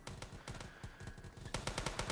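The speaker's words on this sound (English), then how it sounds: "It like won't stop shooting." Gun fire in the Roblox video game, a rapid, relentless stream of close automatic shots rattling on without pause, growing slightly louder near the end.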